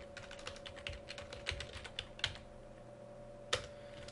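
Fast, irregular key presses on a computer keyboard while code is being entered, heard close and fairly quiet, with a few harder taps standing out among the steady clicking.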